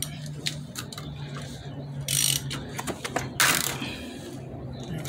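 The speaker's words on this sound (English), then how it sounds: "ratchet" A half-inch ratchet turning a socket on a mountain bike cassette lock ring, sharp metallic clicking in quick strokes with a couple of louder grinding bursts, close up.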